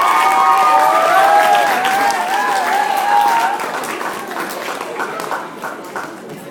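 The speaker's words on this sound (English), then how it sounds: "Round of applause for your A-teamers." A school honor roll assembly audience claps and cheers for students, a loud, dense burst of applause with some whistling and crowd voices that gradually thins and fades toward the end.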